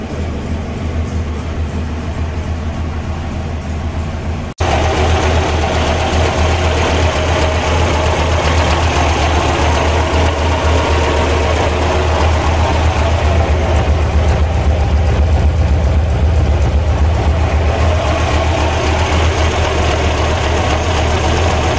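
A ZAZ 968M Zaporozhets engine idles after repair with a steady, low, rhythmic running sound. It is close and loud, and there is a brief cut a few seconds in before it continues evenly.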